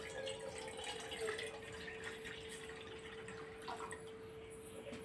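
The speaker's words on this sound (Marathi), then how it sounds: "तर आपण पहिले टाकणार पाणी." Water pours into a pan on a lit gas stove for Maggi noodles, a soft steady trickle and splash with a faint drip, heard quietly alongside a low constant hum.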